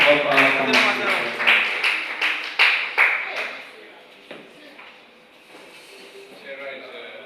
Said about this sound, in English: Please clap so that I can help our camera.